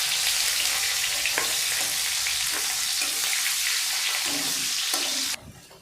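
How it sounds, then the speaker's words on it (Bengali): Chopped onion frying in a pan with five-spice (panch phoron) for a Malabar spinach seed dish, giving a loud, steady sizzle with occasional stirring scrapes throughout, then cutting off abruptly near the end. "পেঁয়াজটি আধো আধো ভাজা হয়েছে"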